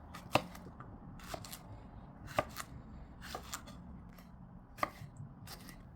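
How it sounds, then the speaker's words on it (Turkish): Sharp knife chops through green peppers and tomatoes on a cutting board, irregular and spaced out, with crisp close clicks between them; no one speaks. "İki tane büyük boy yeşil biber ve üç tane domatesim var. Onları da doğruyorum."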